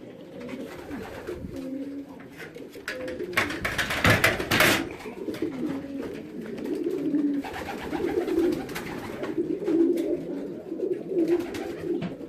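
Racing pigeons coo at their loft as a flock returns from a 152 km race, soft overlapping coos and bird calls continuing steadily throughout, with a brief louder burst of wing or door noise near the middle.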